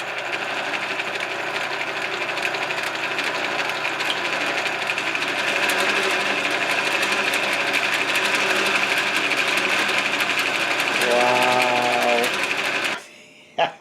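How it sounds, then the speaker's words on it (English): An Atlas horizontal milling machine runs under power feed, giving a steady, loud, close mechanical whine and hum that holds nearly constant before stopping abruptly near the end. "Got a milling machine, ladies and germs."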